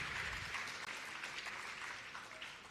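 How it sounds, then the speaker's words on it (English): A round of applause from an indoor audience at a Chinmaya Mission event in Chennai, a dense even wash of many hands clapping at moderate distance, sustained for a few seconds without voices. "We need to give a big round of applause for the Chinmaya Mission and to Sri Gopal Srinivasan for taking this initiative forward."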